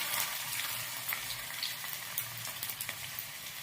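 Cumin and crushed garlic frying in hot oil give a continuous close sizzle with crackly hiss and small pops, and no voice over it.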